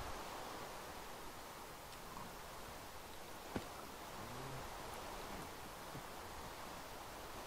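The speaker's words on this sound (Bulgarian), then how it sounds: "Той дъжд много ме дразни, защото когато имам Fire Aspect на меча, то винаги ще има дъжд." Steady rain in the Minecraft video game during a PvP match, an even, unbroken broadband hiss filling the whole stretch with no breaks, plus a single faint click partway through.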